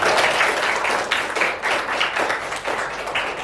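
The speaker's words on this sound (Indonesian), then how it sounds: "berikan aplaus yang meriah" An audience in a classroom-style gathering breaks into steady applause, dense overlapping hand claps that continue evenly for a few seconds at close range.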